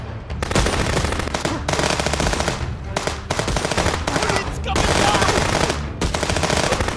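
Sustained automatic gunfire from a gun fired from the hip in the video game Contraband Police, loud rapid bursts with brief gaps between them.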